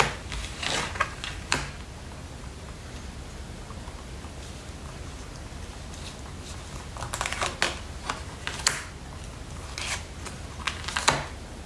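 Tarot cards being shuffled close by, soft riffling flutters in a few short clusters over a steady background hiss, with no voice heard.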